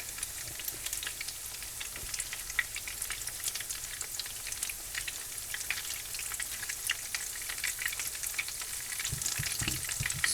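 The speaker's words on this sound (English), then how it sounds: "So we are just going to let these fry until they're golden brown" Taquitos fry in hot oil until golden brown, giving a steady, dense sizzle and crackle close by that runs evenly throughout with no voices.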